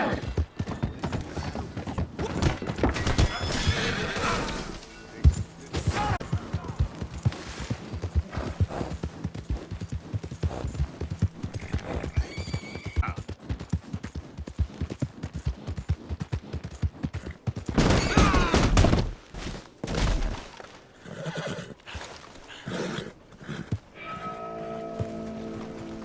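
A horse's hooves clip-clop in a steady, loud gallop through Red Dead Redemption 2, with a few sharp bangs and clanks mixed in near the end.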